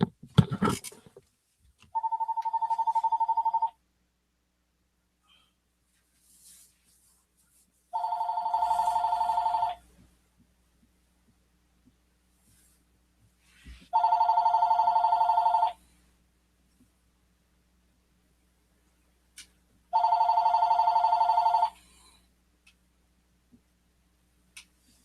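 A telephone rings from an automated robo-dialer call, four separate ring bursts spaced several seconds apart in a quiet room, clear and close, with no talk over them.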